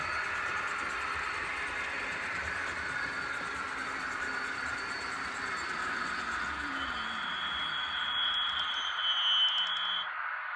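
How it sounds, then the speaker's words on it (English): A Märklin H0 model of the DB E03 electric locomotive brakes over a steady hiss of running noise, with a falling tone and then a thin, high squeal rising near the end before the sound cuts off. "So it's a very nice brake sound."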